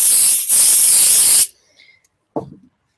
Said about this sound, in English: And I'm going to use the spray.